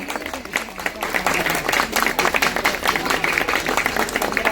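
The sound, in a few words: audience applause at sangeet night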